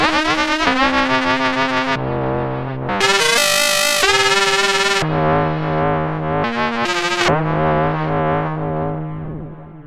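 A loud Korg Mono/Poly synthesizer drone with buzzy, metallic cross-modulated tones that warble and shift pitch in stepped changes, sustained and ringing out with the sustain turned up.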